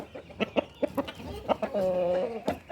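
Short clucking bursts from a rooster come in a loose, uneven series, with one longer, more drawn-out call in the middle, fairly close and clear and heard on their own without talk.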